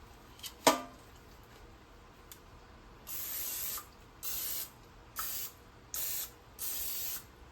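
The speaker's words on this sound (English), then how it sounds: "And I'm gonna spray my baking tin that I'm gonna use." Five short bursts of cooking spray hiss in a steady rhythm, close by, onto a baking tin for banana nut bread, after a brief clink at the start.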